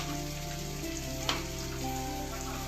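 Steady continuous sizzle of cumin seeds frying in hot oil in a pan, low and even throughout with a small tap near the middle.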